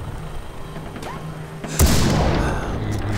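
Single loud gunshot boom from a first-person shooter set in a jungle island game, Far Cry 3, cracking out sharply over quiet ambient game sound, with a short decaying tail.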